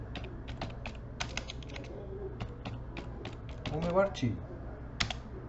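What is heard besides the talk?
typing on a computer keyboard while writing an article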